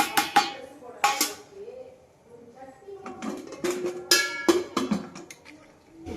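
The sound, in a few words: stirring salt into a pot of cooking rice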